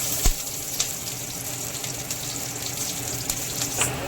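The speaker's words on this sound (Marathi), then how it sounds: "तेल गरम झालं का म्हणून जिरं घालत आहे" Cumin seeds and green chillies sizzle in hot oil for Vidarbha-style kadhi gole, a steady close crackle with a few sharp pops and spits rising above the hiss.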